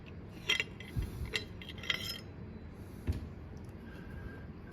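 Metal parts of a U.S. Navy divers knife are unscrewed by hand, giving faint, scattered clicks and ratcheting scrapes against a low room hiss.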